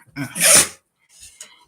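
A single sharp sneeze up close, with a short breathy intake before it, then a faint rustle and a soft sniff afterward.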